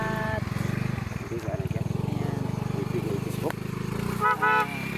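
A motorcycle idles with a steady low putter at a rural roadside, close by under talking voices, with a short horn toot near the end.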